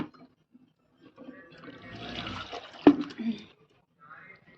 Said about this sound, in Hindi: हम इसमें थोड़ा सा पानी डालेंगे